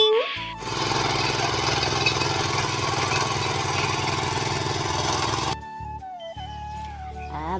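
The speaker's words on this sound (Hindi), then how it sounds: "ट्रैक्टर जा रहा है खेल में" A small tractor engine runs steadily and loudly at close range on a mountain farm, a constant mechanical drone with a rapid pulsing beat that cuts off abruptly, leaving quieter background sounds.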